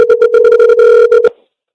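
A telephone line sounds a steady dial tone during a reset, loud and close, pulsing in rapid even bursts before cutting off abruptly into silence.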